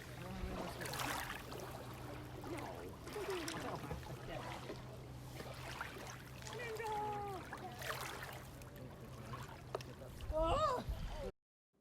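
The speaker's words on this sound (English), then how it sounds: "me recording the water coming in and out of the lake" Lake water washing in and out along the shore at a campsite, a steady soft wash under nearby voices talking throughout, with a brief louder splash near the end.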